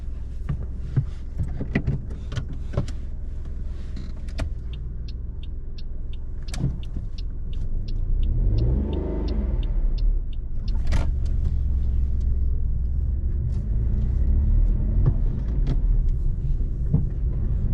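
A car pulls away on a driving test route in Barking, a low engine rumble that builds steadily under cabin noise, with a few clicks and taps early on.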